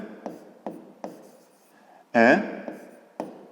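A pen scratches out a fifth-grade geometry solution on paper in short, regular strokes, each a soft scratch. A brief squeaky scrape stands out partway through.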